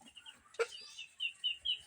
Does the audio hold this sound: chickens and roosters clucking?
yes